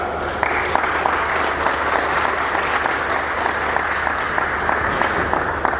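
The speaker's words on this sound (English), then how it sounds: "Can we clap for that?" Steady, dense applause from a large audience at a science summit in Uganda, sustained and even throughout, moderately loud and close, with no talk over it.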